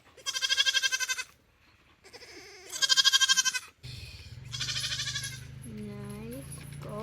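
A goat on a farm gives three loud, close, wavering bleats separated by short pauses, with a low mechanical hum and a brief voice underneath toward the end.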